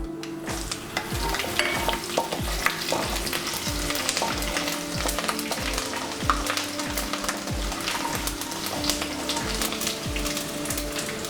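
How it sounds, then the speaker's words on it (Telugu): Thinly sliced garlic sizzles and fries in a pan that already holds mustard seeds, with a steady crackle and occasional pops and stirring near the microphone and nobody talking. "సన్నగా కట్ చేసి పెట్టుకున్న వెల్లుల్లిపాయలు వేసుకుందాం."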